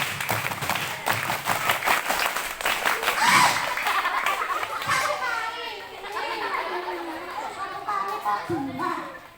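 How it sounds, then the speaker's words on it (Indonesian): Schoolchildren perform a scout-style rhythmic clap, a burst of sharp synchronized claps followed by excited children's chatter and cheering in a crowded classroom. "Satu kali tepuk pramuka."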